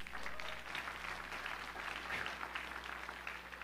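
A church congregation claps during a Sunday morning service, a dense, steady patter of many hands heard at moderate distance over a low room hum.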